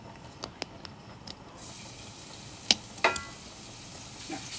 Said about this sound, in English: I'm going to put the ginger now.